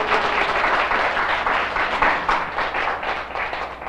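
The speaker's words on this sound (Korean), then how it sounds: "박수 안 주세요?" An audience in a business presentation hall bursts into loud, fairly dense applause, a sustained wash of clapping that swells and dips slightly over a few seconds.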